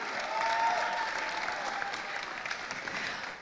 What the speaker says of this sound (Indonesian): saya pingin kita tepuk tangan dulu untuk semua yang hadir di sini